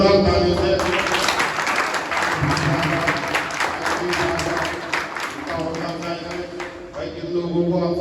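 Loud, sustained applause and clapping from a crowd at a district-level carrom tournament prize ceremony in Muzaffarnagar, steady for several seconds with a voice heard faintly over it.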